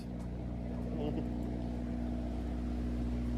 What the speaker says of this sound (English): That's the sound of Dave's bus.